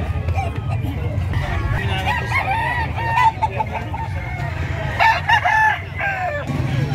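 Roosters crow repeatedly over clucking chickens in a busy livestock market in San Carlos City, Pangasinan, with people talking and haggling beneath the loud, overlapping crows.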